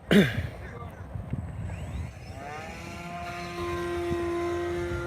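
Close up, an RC model airplane engine starts and settles into a steady, rising whine with strong harmonic drone, while people talk nearby.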